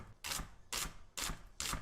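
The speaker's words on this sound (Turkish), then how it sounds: "Bu kaynayana kadar ben de domates ve soğanlarımı doğruyorum." An onion is chopped with a knife in four evenly spaced crisp cuts, close and clear, with brief quiet gaps between strokes and no voices.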